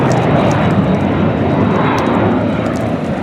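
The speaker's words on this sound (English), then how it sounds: "There goes a jet." A jet aircraft passes overhead near Cape May, heard from a bicycle. Its broad, loud, steady roar fills the whole stretch.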